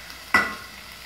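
A short sizzle of onion and garlic frying in a pan bursts out suddenly, loud at first, then fades over about a second.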